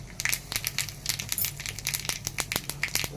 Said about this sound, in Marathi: मोहरी छान तडतडली की लगेचच आपण हिंग घालून घेतो